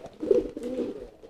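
A domestic pigeon courting and driving a hen gives a short, close, low throaty coo with a rolling pulse, heard alone in a quiet setting.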